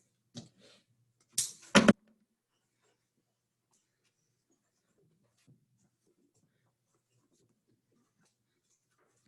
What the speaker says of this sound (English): Write it down, Dallas.